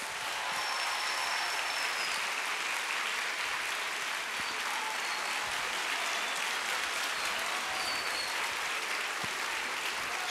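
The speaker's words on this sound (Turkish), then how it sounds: "Alkışlarınızla şimdi Doğu Demirkol'u sahneye davet ediyoruz." Steady applause from a crowd as a speaker is invited onto the stage, continuous clapping at an even level throughout with no voices standing out.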